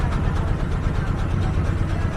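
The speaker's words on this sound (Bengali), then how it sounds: "ট্রলারে যাচ্ছি আমরা" A river trawler heading across the Padma gives off a steady, heavy motor rumble, close and loud, unbroken throughout with a faint pulsing beat.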